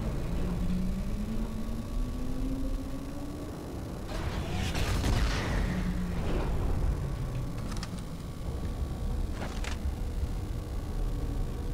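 Heavy MAC cannon blasts in the Halo 2 video game, deep booming bursts with metallic rumble over a steady low mechanical drone, a big cluster of shots midway and sharper cracks later.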